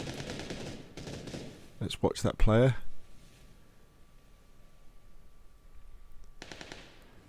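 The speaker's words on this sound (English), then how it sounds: "More gunfire." Gunfire on the Sanhok map in the video game PUBG, a tight burst of sharp shots with ringing tails in the middle, then a fainter volley later, with a voice talking before and around them.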